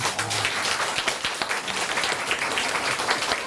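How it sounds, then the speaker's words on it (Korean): An audience at a Korean book talk with a Buddhist monk breaks into loud, continuous clapping, a dense crackle of many hands that stays steady for several seconds without talk. "박수 한번 치고 있어요."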